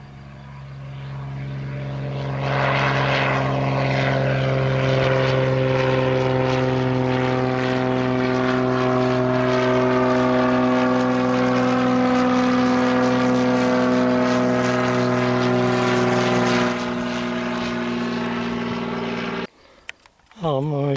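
A propeller airplane at the Przylep airfield drones loudly and steadily with a strong humming engine tone, building up in the first few seconds and holding for most of the stretch before cutting off near the end.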